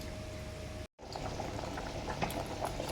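A pot of palak quinoa khichdi bubbles and burbles at a steady boil, with a brief dead-silent break before the simmering resumes, close and moderately loud.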